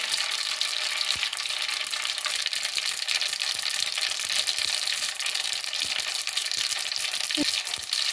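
Mustard seeds and cumin seeds fry in hot oil in a pan, giving a steady, loud crackling sizzle with scattered sharp pops throughout, close by and with no talking.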